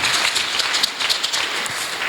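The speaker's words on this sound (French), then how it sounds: "on acclame encore notre Seigneur Jésus" A church congregation applauds in steady, dense clapping that fills the space at close range, sustained throughout with no talking over it.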